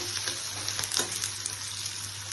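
Peanuts and spices frying in a pan, a steady close sizzle with faint crackles and pops running evenly throughout without any voice.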